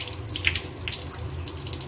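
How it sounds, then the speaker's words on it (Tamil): Tap water runs steadily into a sink while hair is rinsed after applying a natural homemade hair dye, a close, continuous splashing stream with no voices. "இப்போ நான் அது தண்ணியில் தான் வாஷ் பண்ணுறேன்."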